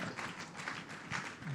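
Audience at an entrepreneurs conference and trade expo clapping for a speaker being welcomed to the stage, a dense, steady patter of many hands at moderate distance, lasting the whole moment.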